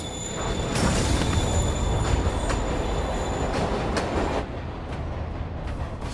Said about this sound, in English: Train moving. Lee's getting away.